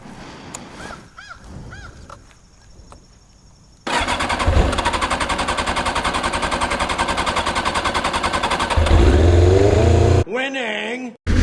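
A Kawasaki ZZR600 motorcycle turns over, catches, and runs with a rapid, loud, pulsing idle, then revs up louder before cutting off, with voices heard near the start and end.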